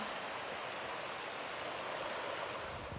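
Summit Creek near Creston, British Columbia, flows in a soft, even wash of water, steady and faint with no other sounds over it.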